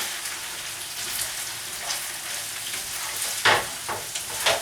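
Eggs are stir-fried into BBQ pork fried rice in a hot pan, giving a steady close sizzle with scraping and stirring clatter and a few sharper scoops of the spatula near the end.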